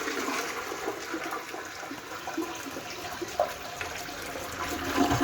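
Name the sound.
toilet being flushed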